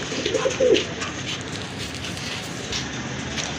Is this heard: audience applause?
no